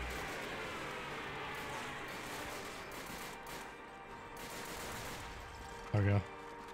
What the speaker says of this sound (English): I'm tired of hearing their shooting constantly.